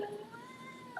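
A cat gives one soft, drawn-out meow that is fairly faint against a quiet indoor background, with no clear talking during it.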